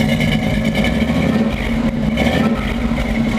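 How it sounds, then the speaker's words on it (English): A 1955 Chevy pickup engine revs steadily at close range, its exhaust giving a continuous low rumble with slight surges in pitch. "I'll come around to the exhaust so you can get an exhaust note out of it."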